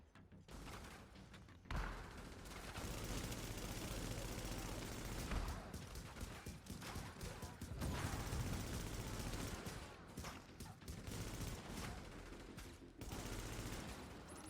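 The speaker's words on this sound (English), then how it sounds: "Who the fuck is shooting me?" Loud bursts of automatic gunfire and rattling shots pour in close from several directions in the military-themed shooter video game The Division, near-continuous volleys broken by brief lulls, with a player's voice talking over parts of it.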